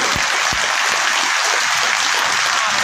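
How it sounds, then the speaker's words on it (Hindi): Loud, dense applause from a large crowd at a BJP candidate's nomination rally, steady and unbroken throughout with a few sharper claps standing out near the start. "जोरदार तालियां से जोरदार"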